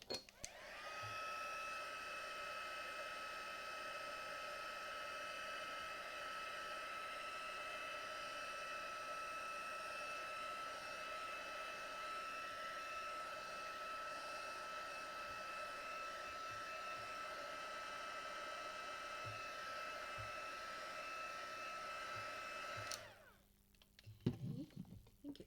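A hair dryer blows steadily and loudly on a watercolour painting for about 23 seconds, a constant whooshing drone with a faint whine, then cuts off abruptly into near quiet.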